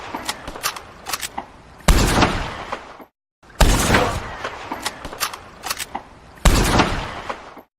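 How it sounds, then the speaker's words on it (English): Carbine Repeater lever-action rifle firing in Red Dead Redemption 2: three loud, sharp shots spaced a couple of seconds apart, each with a booming echo, between quieter clicks and clacks of lever cycling. "next we have is the Carbine Repeater, which is a reliable repeating rifle with a solid firing rate and quick reload speeds"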